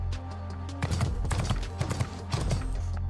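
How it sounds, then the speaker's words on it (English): Horse hooves clopping in the video game NIKKE, an irregular run of knocking steps over a steady low musical hum. "More horse noises."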